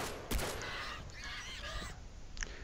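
Turkeys in the video game Far Cry 3 let out a sharp burst of loud gobbling, honking calls that repeat over a couple of seconds amid steady game ambience and a brief thump.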